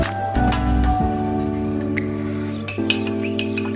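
A spoon stirs a tablespoon of cornstarch into cold water, clinking quickly against the container while a steady kitchen hum runs underneath, with no talking.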